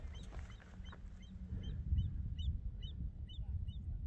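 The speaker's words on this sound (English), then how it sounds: "Is that a seabird too? Sure sounds like one." Repeated high, short seagull calls ring out in a rapid series, moderately distant, over a low rumbling background.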